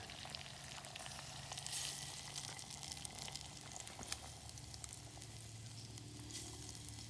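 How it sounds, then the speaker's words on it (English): Mushrooms sizzle steadily in a pan over an outdoor cooking setup in a forest, a faint, continuous crackling fry with occasional small pops and no talking. "I'm going to go ahead and add some mushrooms. And I'll let that cook a moment."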